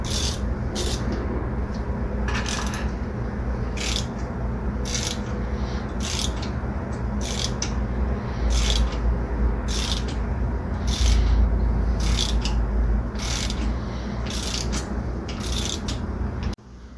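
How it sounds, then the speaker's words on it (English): A 3-jaw puller pulls the crank sprocket off a small block 350 Vortec engine, with steady, evenly spaced ratcheting clicks repeating about every second over a constant low mechanical rumble, close and fairly loud, with no talking. "I have this 3-jaw puller here that I'm going to use to pull off the crank sprocket"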